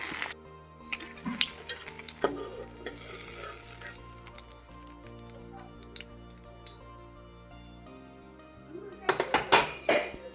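Fried eggs lifted from a pan in a home kitchen: soft sizzling and stirring with a few sharp metallic clinks of utensils and dishes, ending in a louder burst of clattering.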